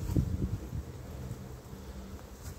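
Honeybees hum softly around an open hive during an inspection at home, a low, faint buzzing with a brief louder swell at the start and no voices.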